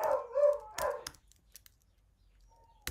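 An excited dog barks and whimpers nearby while being fed, two short barks followed by quieter yelps and a faint whine, with no voices.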